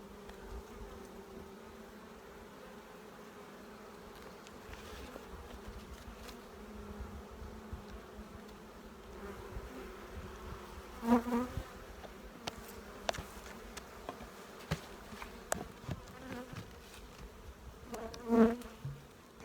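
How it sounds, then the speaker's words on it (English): Swarm of very young, freshly emerged bees buzzing around an active hive in early spring, a steady low drone with individual insects passing close and loud at moments, no talking. "Some very young bees."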